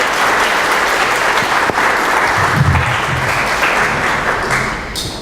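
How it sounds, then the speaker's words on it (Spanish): Welcoming applause from a conference audience greeting a speaker, a steady dense clapping that fills the room for about five seconds before tapering off at the end. "Damos un aplauso de bienvenida."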